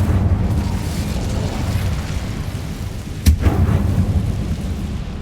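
Incendio fire spell cast in the video game Hogwarts Legacy, a single sharp burst near the middle over a steady low rumbling game ambience.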